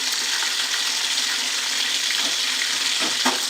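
Hot oil bubbles and sizzles steadily in a pan while frying for chicken biryani, a dense close hiss with a few sharper crackles near the end.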